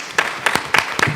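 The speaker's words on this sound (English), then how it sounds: "Please give her a round of applause." A handful of sharp, separate claps ring out from an audience at a conference panel on juvenile justice, four quick hits in about a second, close and fairly loud with no talking.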